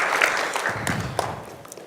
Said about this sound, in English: A round of applause for Dr. Monique Nsanzabaganwa